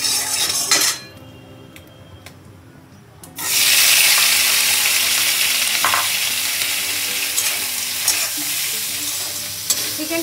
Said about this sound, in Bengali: চিকেনটা এবার ভেজে নেব।